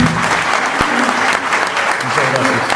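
Lively audience applause at a recognition ceremony, dense clapping filling the room, with voices and cheers mixed underneath the steady roar.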